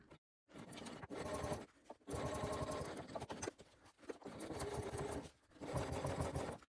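A sewing machine stitching a seam at 1/8 inch with a long stitch length on a crossbody bag lining, several short bursts of rapid stitching broken by brief pauses, fairly close and moderately loud.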